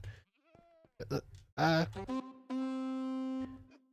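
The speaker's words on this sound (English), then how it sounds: "I think I legitimately took like 25 minutes trying to get a goat horn." Minecraft goat horn playing its 'Sing' tune, a long steady nasal horn tone held for about a second near the end, following short bleating game sounds, clear and fairly quiet.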